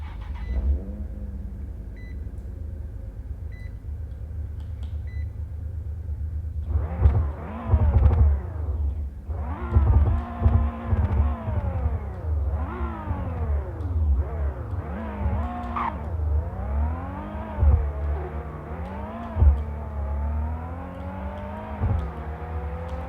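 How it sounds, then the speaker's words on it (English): Car engine in the Roblox game Greenville revving repeatedly, with several rising and falling sweeps over a steady low rumble after a quieter idle at the start, loud and close with no talk. "the sounds on this car are pretty good, and they even have some pops and bangs."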